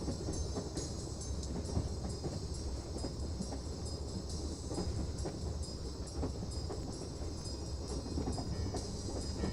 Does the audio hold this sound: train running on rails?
yes